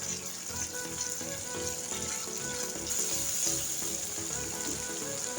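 Spice paste fries in a pan for a curry with lentil koftas, giving a dense, even sizzle and bubbling that runs throughout at moderate loudness, with no voices.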